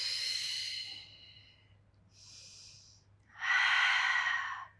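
Deep breaths in and out during an exercise routine: a long breath, a softer pause, then a strong loud exhale, all close and with no talking.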